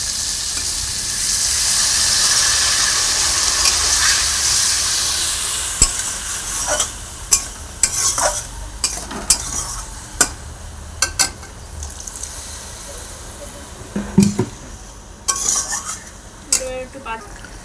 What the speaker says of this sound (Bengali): এখানে আলুটা ভাজতে ভাজতে এখানে সামান্য অল্প পরিমাণে একটু জল অ্যাড করবো